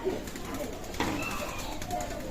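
A pair of Oman bloodline teddy pigeons coo softly and close by, a few short low coos set against a background of room noise and faint voices.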